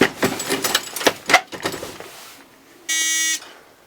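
A progressive reloading press sounds its low primer alarm, a sharp electronic buzz lasting about half a second after a series of metallic clicks and clatter from the press.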